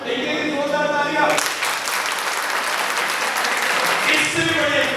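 An audience at a motivational talk bursts into dense, loud applause that swells and holds for several seconds, with a voice speaking before it starts and again as it fades.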